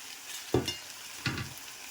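Taro greens cooking with a hilsa fish head in a pan are stirred twice, two close scraping, sizzling strokes with a quiet simmer between them.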